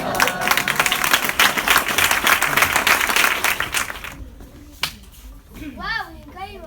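Lively applause from an audience at a children's magic show for a performer named Mari, dense clapping for about four seconds before fading into scattered voices and someone speaking.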